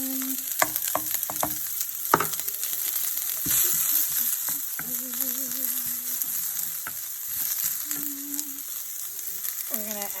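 Onions hit melted coconut oil in a cooking pot and fry with a continuous bright sizzle. Sharp clinks and scrapes from a stirring utensil against the pot come and go, with no talking.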